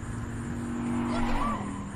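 Engine hum of a car driving in the Blind Drive mobile game, a steady drone with a rising whine and a brief tire-squeal-like sweep near the end, fairly loud and continuous.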